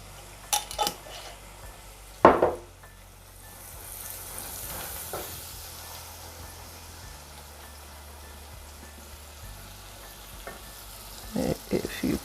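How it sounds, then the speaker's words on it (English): A lentil and peas stew mixture with dry seasoning sizzles in a pot as a soft steady frying hiss, broken by a few clinks and scrapes of a utensil against the pot near the start and end. "I'm just going to put a teaspoon of my dry seasoning in this mixture that is all sizzling there."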